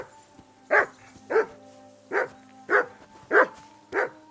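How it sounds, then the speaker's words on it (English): A dog in the video game Kingdom Come: Deliverance II barks six times at a steady pace, sharp yapping barks over a faint low hum. "That barking was a pain in the ass."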